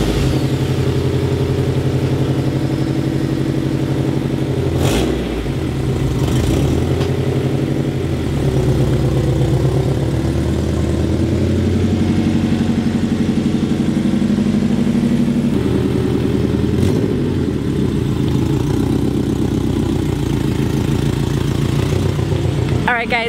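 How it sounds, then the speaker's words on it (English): A Honda EK with a D-series engine and unequal-length header idles with a deep, steady rumble that continues throughout, loud and close, with slight shifts in tone partway through. "I can hear the unequal length header rumble and it just sounds amazing"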